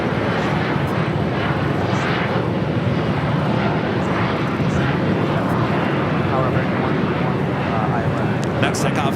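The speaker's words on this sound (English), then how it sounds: "Next takeoff is United Airlines flight 1912, heading to Denver in a 757-300" United Airlines Boeing 757-300 taking off from LAX for Denver, a loud, steady jet engine roar with broadband rumble that holds throughout, heard at close range.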